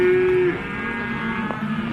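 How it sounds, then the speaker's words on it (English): A Wagyu cow gives one loud, close moo that cuts off abruptly, followed by quieter lowing and a faint murmur of other cattle in the background. "And these are called Wagu cows."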